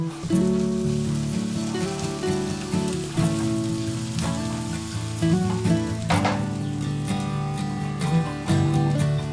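Onions frying in a pan for fried rice, a loud steady sizzle and crackle over a background of music, with no talking.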